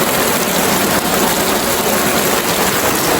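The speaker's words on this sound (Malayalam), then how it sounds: "നല്ല മഴയാണ്. പെരും മഴ." Heavy rain pours steadily on a house courtyard in Kerala, a dense continuous hiss with no pauses, close and loud throughout.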